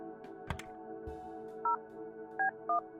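Touch-tone keypad beeps as a phone number is dialed in the game Kathy Rain 2, three distinct dual-tone presses spaced apart over a low steady background hum, with a couple of soft clicks early on.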